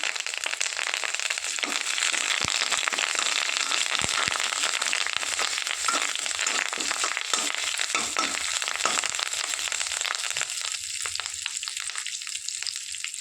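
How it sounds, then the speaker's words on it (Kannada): Curry leaves crackle and spit in hot oil for tempering ivy gourd palya, a dense continuous sizzle with scattered pops heard close up, steady throughout. "ಒಗ್ಗರಣೆ ಸೊಪ್ಪು ಹಾಕ್ಕೊಳ್ತಿದ್ದೇನೆ."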